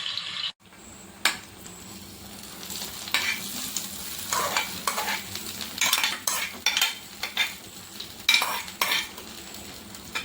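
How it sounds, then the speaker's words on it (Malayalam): Cashew nuts and raisins fry in a pan for a chicken stew, with a low sizzle under repeated scraping and clinking strokes of a stirring spoon. The stirring comes in irregular bursts, and no one speaks. "ഇതിലേക്ക് 10 ഗ്രാം കാഷ്നട്ടും 10 ഗ്രാം കിസ്മിസും ചേർത്ത് നമുക്കിതൊന്ന് ഫ്രൈ ചെയ്തെടുക്കാം"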